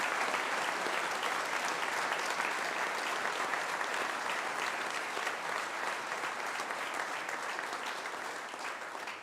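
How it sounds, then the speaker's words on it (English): Audience applause at a school prefect and senior induction ceremony, a dense sustained wash of many clapping hands that holds steady and tapers slightly toward the end. "I think another round of applause is"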